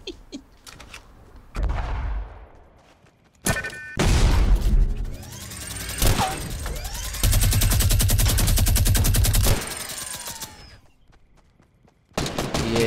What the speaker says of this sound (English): I'm definitely glad they made the burst assault rifle strong again.